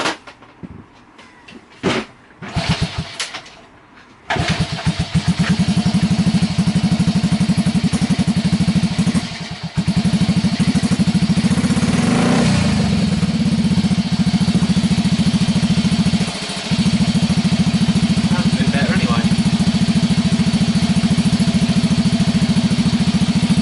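A Honda Cub C65 motorcycle with a newly fitted exhaust starts after some clattering and settles into a steady, close, loud idle, with a short dip in the running partway through and no talking.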